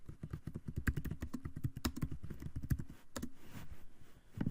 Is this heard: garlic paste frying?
no